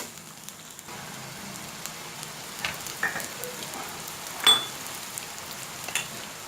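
Ginger garlic paste frying in hot oil for chicken keema gives a soft, steady sizzle with occasional small crackles and pops, fairly quiet, with no talking.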